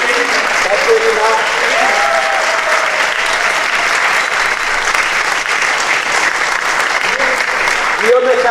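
Congregation at a Taizé New Year's closing Mass in the Val d'Orge applauding steadily and loudly for the whole stretch, with a voice briefly audible over the clapping near the end.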